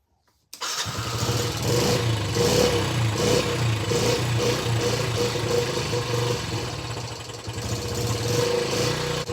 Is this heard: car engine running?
yes